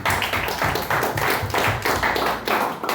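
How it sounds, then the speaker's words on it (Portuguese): A church congregation claps during a worship service, rhythmic bursts of hand-clapping coming in waves, fairly loud and near, with no talking over it. "Você pode aplaudir o Espírito Santo."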